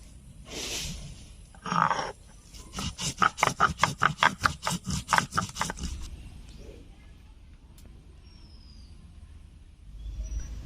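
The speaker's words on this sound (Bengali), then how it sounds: "জিরে বেটে নিচ্ছি, একটু জল দিয়ে বাটবো।" Cumin seeds are ground with a little water on a grinding stone, a close series of about a dozen rhythmic rasping strokes after two slower scrapes, then quiet.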